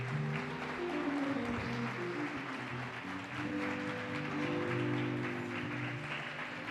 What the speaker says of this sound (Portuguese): As palmas engrandecem a Jesus.